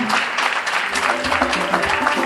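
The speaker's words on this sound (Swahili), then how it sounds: "naomba tuweze kuongeza tena makofi kwa mgeni wetu" Loud, continuous applause from a crowd, dense clapping with a voice speaking faintly beneath it.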